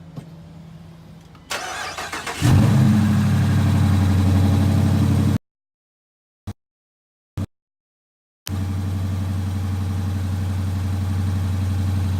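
A car fitted with a K&N high-flow air filter cranks and starts, then its engine revs loudly and steadily up close, cuts out briefly, and returns to a strong sustained roar.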